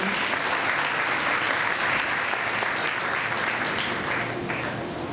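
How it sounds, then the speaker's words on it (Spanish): Loud, sustained audience applause at a church testimony gathering, steady clapping from a crowd filling the whole stretch without pause. "Adelante, por favor, un fuerte aplauso."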